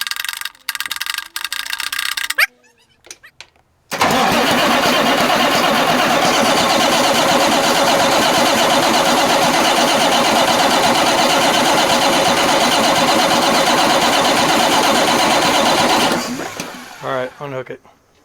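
A Marmon 57P Aero diesel engine cranks briefly, pauses, then catches and runs loudly and steadily for about twelve seconds before shutting down, with voices talking around it at the start and end.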